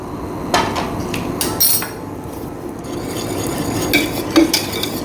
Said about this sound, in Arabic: رح نحرك الخليط شوي شوي، خليط البشاميل